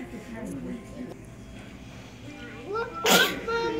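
A single sharp sneeze bursts out near the end, right after a kitchen scene with quiet talking and small clatter during lunch at home.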